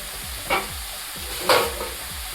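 Grated carrots for carrot halwa are stirred in a pan, two distinct scraping sweeps over a low, steady sizzle, close by and fairly quiet, with no voices.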